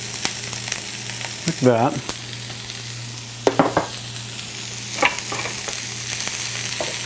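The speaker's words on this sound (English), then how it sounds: "So now I'm going to add in my zucchini noodles." Zucchini noodles tossed into a frying pan of tender asparagus, sizzling steadily up close while a utensil stirs and scrapes in a few bursts, and a voice speaks briefly.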